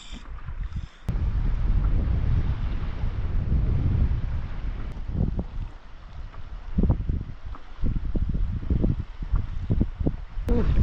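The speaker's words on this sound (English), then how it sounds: "It's a big wind coming." Strong wind gusting across open water in a national park, a steady loud rumble of buffeting against the microphone with water noise underneath, swelling and easing without letup.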